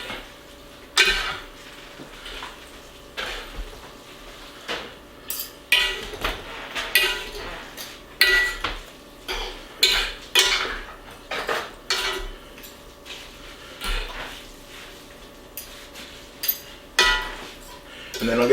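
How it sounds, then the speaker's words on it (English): Ground beef noodles in sauce being stirred in a pan, giving a string of clinks and scrapes of utensil on metal, some sharp and bright, with brief gaps between strokes and a faint hum underneath. "I'm just going to stir them through"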